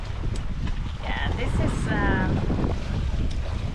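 A sailboat beats into an 8-knot headwind at 4 to 5 knots off the San Blas Islands, with steady, loud wind buffeting the microphone over the rushing water and hull noise.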